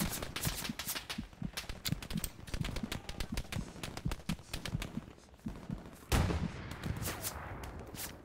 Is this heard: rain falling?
no